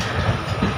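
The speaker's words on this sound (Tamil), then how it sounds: "ஸோ நமக்கு அந்த பக்கம் ஒரு ஈஸ்டர்ன் ரயில்வே ஒரு LHB கோச் போகுது." An Eastern Railway train with LHB coaches rolls past nearby, a loud continuous rumble with faint rhythmic wheel clatter, no voices.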